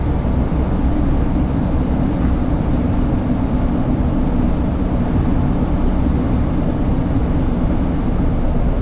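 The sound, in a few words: Qantas Boeing 747 aircraft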